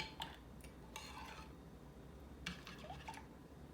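Yeast stirred into milk in a bowl: faint, soft clinks and scrapes of a spoon against the bowl in a few brief, spaced bursts over a quiet background.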